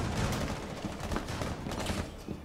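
Rapid gunfire in the video game Rainbow Six Siege during a favela raid mission, a dense, loud burst of shots filling the whole moment with no break.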